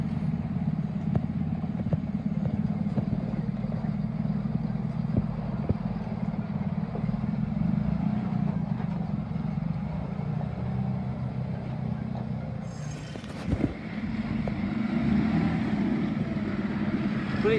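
A Land Rover engine runs smoothly as the vehicle drives, giving a steady low rumble at moderate volume. The sound stays even for most of the time, with a brief dip and a soft clunk near the end. No one speaks over it.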